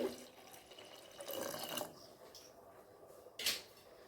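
Water pours into a pot of sour dal seasoned with turmeric, making a brief splashing gush followed by a short, sharp splash at the end against a quiet background.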